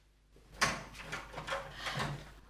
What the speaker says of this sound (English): I'm going and opening the door.